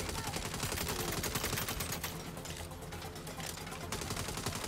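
Sustained turret gunfire in the Saints Row game rattles continuously as a dense, rapid stream of loud shots that barely lets up.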